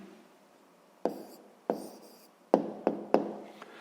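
A pen writes out a math answer by hand on paper, a few separate scratchy strokes and taps at an uneven pace, close and fairly quiet with no voices.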